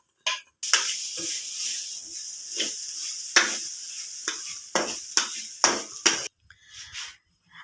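Grated coconut is stirred in a dry pan for a Kerala onion theeyal, sharp scraping strokes of a spatula recurring every half second or so over a soft hiss, close and fairly loud.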